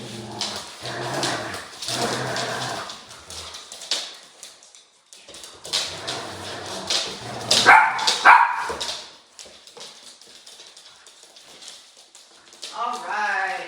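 Dogs bark and whimper indoors in short bursts, mixed with a person talking and some thumping movement around the room.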